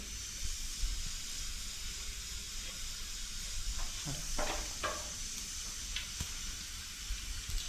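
Cumin seeds sizzling and spluttering in hot oil: a steady frying hiss runs throughout, broken by a few brief crackling pops, fairly faint and close, with no talk.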